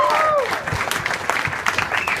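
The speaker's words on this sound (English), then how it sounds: "Please, round of applause." Applause from an event audience, lively clapping from a crowd with some cheering and voices mixed in, fairly close and loud throughout.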